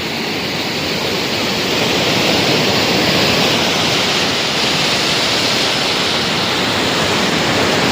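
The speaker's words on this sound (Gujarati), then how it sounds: "લો કેવો એક મસ્ત ધોધ છે" A waterfall at a rural spot near a shrine, a loud, dense, steady roar of rushing water that fills the whole stretch without letup.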